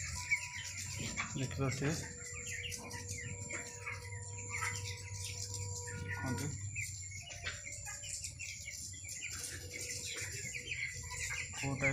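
Birds, including chickens, gathering at a bird feeder to eat grain, with clucks, chirps and calls throughout while a person talks over them.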